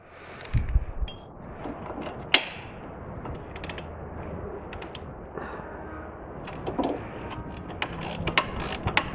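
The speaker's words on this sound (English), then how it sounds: "Make sure the caliper mounting bolts are very tight." Ratchet tightening the brake caliper mounting bolts on a front-wheel-drive car during a brake pad and rotor job, heard as repeated quick clicking pawl strokes, close and moderately loud, with scattered metallic knocks and no talking.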